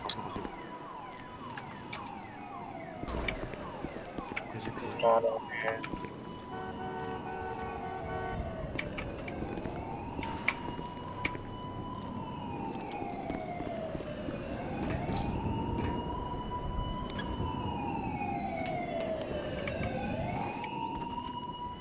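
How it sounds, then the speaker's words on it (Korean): Police sirens in a video game roleplay server wail in repeated rising and falling sweeps, loud and close, with a car engine and occasional horn toots mixed in. "사이렌 끄세요 사이렌 끄세요 네, 수방팀 사이렌 꺼요"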